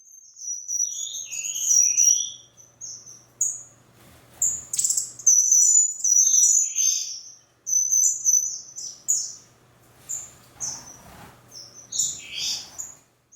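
Pet birds in an indoor aviary bird room chirp and tweet in bright overlapping bursts, loud and close, with brief pauses between flurries and a faint low hum underneath.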